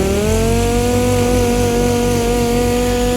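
Dual-action sander with 40 grit sandpaper stripping paint from a car body panel, a loud, close, continuous motor whine with a steady buzzing tone and no pauses.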